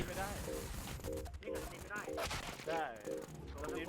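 Dense bursts of rapid video-game gunfire rattle on continuously at close range, with voices chattering along underneath.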